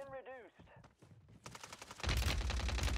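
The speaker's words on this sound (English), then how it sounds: "Getting shot from everybody" Gunfire from many directions in Warzone 3: a voice speaks briefly at the start, then scattered shots build into a dense, loud burst of rapid fire over the last second.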